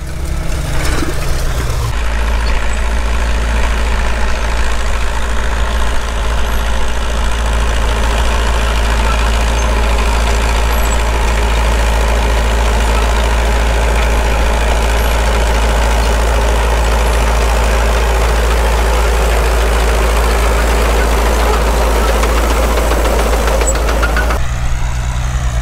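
A Farmall Cub tractor engine runs steadily at a spring plow day, a loud, close, even idle-like chug with a deep low drone that holds for nearly the whole stretch before dropping off at the end.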